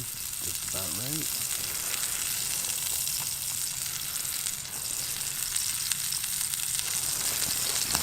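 Steak and bacon sear in a pan at a winter campsite, giving a steady, even hiss of sizzling fat that runs unbroken for the whole stretch.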